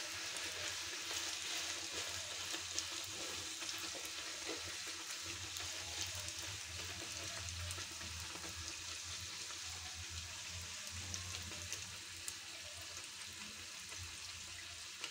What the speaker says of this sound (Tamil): எண்ணெய் சலசலப்படணுன்னு எடுத்துடலாம்.